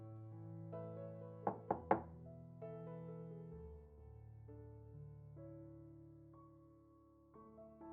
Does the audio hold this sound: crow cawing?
no